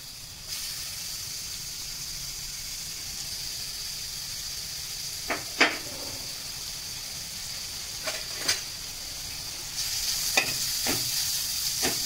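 Grated beetroot frying in a little oil in a kadai gives a continuous soft sizzle and hiss, broken by a few sharp scrapes and taps of a stirring spoon against the pan.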